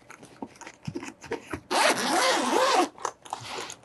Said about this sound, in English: So unzip it.